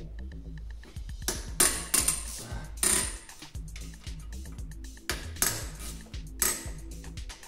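A small ratchet works on the cylinder head bolts of a Bigy 190cc Daytona pit bike engine, giving bursts of quick metallic clicking with short pauses between them, close and clear, with no talk.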